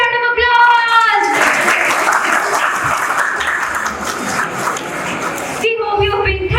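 Audience applause at a school Teachers' Day celebration at Mount Carmel School, Baghmugalia: a dense, sustained burst of clapping lasting about four seconds, framed by singing before and a voice speaking after.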